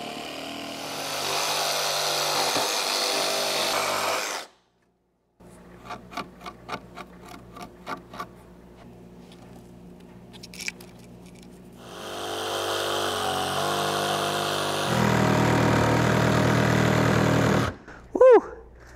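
Chainsaw cutting a piece of wood along its cracks: loud bursts of engine roar separated by a pause with ticking idle clatter, then renewed cutting and a rising rev at the end.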